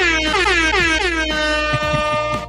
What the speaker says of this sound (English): Mark Graves, Leah Phillips, air horns on the way out.